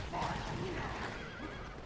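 A horse neighs in the Age of the Ring video game, a brief whinny amid a busy battle soundscape with low rumbling and other game noise underneath.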